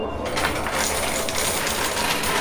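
Coins tumble and clatter continuously inside a high-limit casino coin pusher machine, a dense, steady metallic jingle throughout, with no talking.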